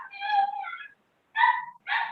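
A dog, excited ahead of a walk, gives a long, drawn-out whining bark and then two short, sharp barks after a brief pause, close and fairly loud with no talking.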